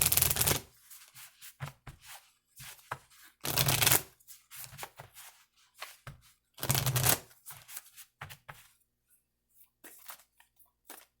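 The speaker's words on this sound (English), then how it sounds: "I'm going to do another shuffle" Several bursts of cards being shuffled, quick riffling flutters separated by short pauses, close and crisp.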